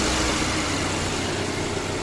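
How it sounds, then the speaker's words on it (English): A 2014 Kia Optima SXL's radiator cooling fan spins fast with the engine running after an overheating fix, a steady, loud whooshing roar under the hood with no voices. "My fan is actually spinning way faster than it's been spinning."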